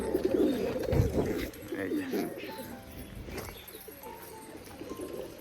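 Caged pigeons with grown chicks coo in low repeated phrases close by, with someone talking over them at times.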